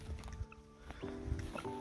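Chickens cluck and murmur in a garden compost bin, with soft, irregular calls fairly close and quiet.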